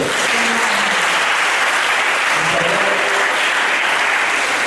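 A church congregation bursts into loud, sustained applause that fills the hall evenly from start to finish, with a few voices faintly audible within the clapping.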